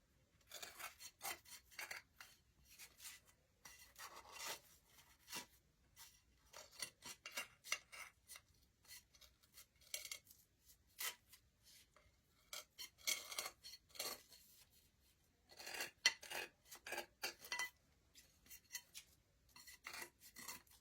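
Scissors trim around the rim of a Dollar Tree plate, making a long run of quiet, close snips and crisp cutting bursts with short pauses between, and nobody talking.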